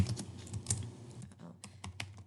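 Keys clatter in a quick, uneven run of typing on a computer keyboard for OneNote notes, close and fairly loud, with short pauses between bursts and no talk.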